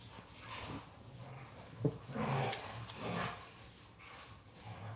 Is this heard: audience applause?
no